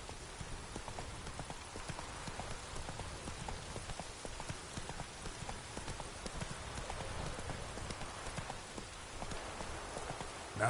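Roach the horse runs in The Witcher, a steady, rapid clip-clop of hooves continuing throughout, moderately loud against a faint rain-like hiss.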